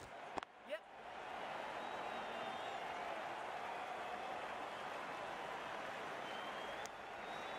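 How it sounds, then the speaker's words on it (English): Crowd at a club cricket match between DC Eagles and Vancouver Dolphins, a steady broad wash of applause and cheering held for several seconds after a brief knock at the start, moderately distant. "The crowd are loving this."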